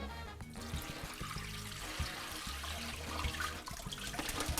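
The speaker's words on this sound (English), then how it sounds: "And we're going to drain this out." Water pours and trickles out of a pot of rinsed beans as it is drained, a steady splashing gush close by with no talking.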